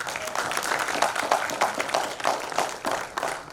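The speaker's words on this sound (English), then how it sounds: "with a big round of applause" Dense applause from a conference audience greeting a guest of honor, a steady wash of many hands clapping at moderate volume with scattered sharper claps.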